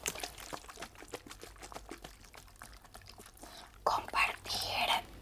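Water is poured in close, soft trickles and splashes, with a louder pouring burst toward the end and quiet whispered sounds throughout.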